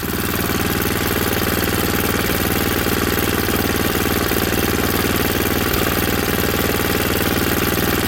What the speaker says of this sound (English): with the choke off, and it's idling.